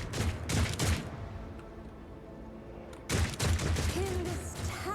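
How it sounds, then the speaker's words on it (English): Bursts of rapid gunfire from the video game Warhammer 40,000: Rogue Trader rattle in two clusters, loud and close, with a quieter stretch between them. "There's shooting."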